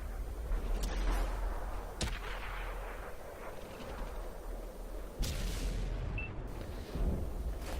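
Tank cannon shots in the World of Tanks console game, fired by a Centurion 7/1 from cover: two sharp, loud booms near 2 and 5 seconds, each with a rumbling tail over steady engine and battle noise.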